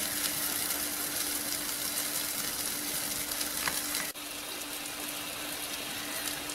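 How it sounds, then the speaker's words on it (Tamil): Ground curry paste for Tamil vatha kuzhambu frying in oil in a pan, a steady close hiss and sizzle that drops slightly in level partway through. "இந்த விழுதையும் சேர்த்து இந்த எண்ணெயில் நல்லா வதக்குனீங்கன்னா இன்னும் வாசம் நல்லா இருக்கும்"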